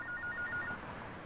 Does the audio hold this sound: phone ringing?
yes